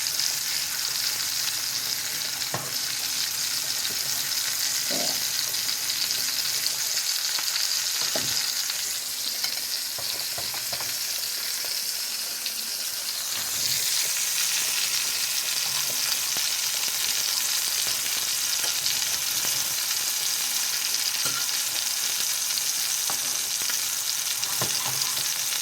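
Meatballs browning in a pan, a continuous loud frying sizzle running throughout with scattered scrapes and clicks from turning and stirring, no voices.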